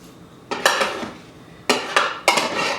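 Metal utensils scrape and clink against a pan as cooked bacon is lifted out, several sharp close clatters in two quick clusters with quiet gaps between them.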